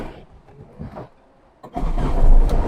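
A converted old Tata Indica Turbo is cold started: brief quiet clicks, then the engine catches in one go and settles into a loud, steady running rumble close by.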